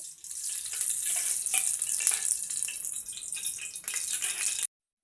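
Sliced onions sizzle and crackle in hot oil for a village-style mutton boti curry, a steady close frying hiss with scattered pops for about four and a half seconds before cutting to silence.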